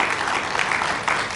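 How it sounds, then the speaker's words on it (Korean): A church congregation applauds at a communion service, steady clapping from many hands filling the space throughout, with no talk over it. "우리 그동안 고생했다고 우리 박수해 주셨으면 좋겠습니다"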